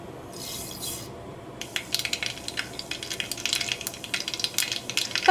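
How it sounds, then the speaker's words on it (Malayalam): Mustard seeds splutter in hot coconut oil, starting with a brief burst and then a dense run of sharp crackling pops that grows louder toward the end, with no voices. "ഇപ്പോൾ കടുക് പൊട്ടിയിട്ടുണ്ട്"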